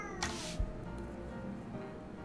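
A cat meows once in a Minecraft video game village, a short, clear mew standing out over a quiet, faint game ambience.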